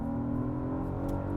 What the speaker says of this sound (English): if I dial that back to comfort and then slow down and floor it again